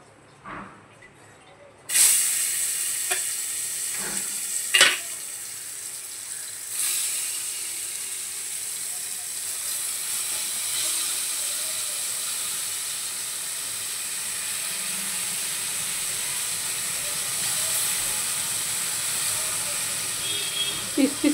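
Ripe mango pieces drop into hot mustard oil with chilli and set off a loud, sudden hiss that settles into a steady, sustained sizzle, with a few clatters and a voice speaking.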